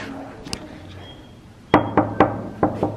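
A door is knocked on in a short run of four or five sharp raps, close and fairly loud, after a quieter stretch with a single earlier tap.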